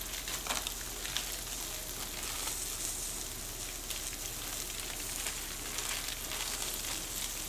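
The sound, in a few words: zucchini sizzling while frying in a pan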